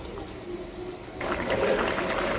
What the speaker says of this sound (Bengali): এবার আমি উপর থেকে দিয়ে দেবো উষ্ণ গরম জল